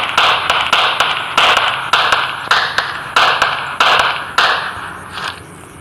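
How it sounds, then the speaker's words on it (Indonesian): A rapid series of sharp gunshot bursts in the video game PUBG, about a dozen in quick succession, loud and close, fading at the end. "Ada tembak-tembakan di sana"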